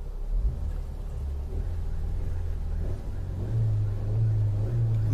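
A Hyundai Elite i20 engine runs steadily at close range with a low, constant hum, rising slightly toward the end, and no voices over it.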